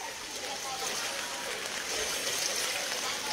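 A flooded river rushing along Don Manuel toward Balintawak, a dense continuous roar of flowing water, loud and steady throughout with no pauses.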